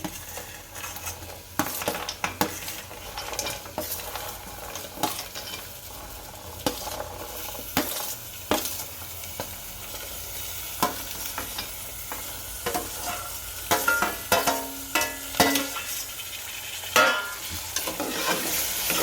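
Potato, tomato, peanuts and peas sautéing in a pan for Kathiyawadi masala khichdi: a constant sizzle under repeated spoon scrapes and clanks against the pot, close and busy throughout, with no talk.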